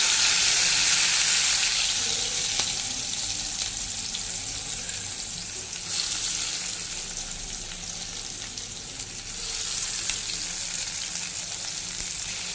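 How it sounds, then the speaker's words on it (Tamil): Onions and tomatoes sizzle loudly in hot oil, a dense crackling hiss that fades and swells as the pan is stirred. "நல்லா டீப்பாக ஃப்ரை பண்ணணும்."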